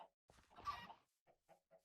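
Minecraft chickens give soft, short clucks: one longer burst followed by three quick, faint clucks, with no talking.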